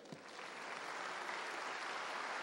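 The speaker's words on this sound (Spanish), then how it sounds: "Denle un aplauso al Señor" A church congregation applauds the Lord during a Spanish-language sermon, a faint, steady wash of distant clapping that holds evenly for a few seconds with no voices on top.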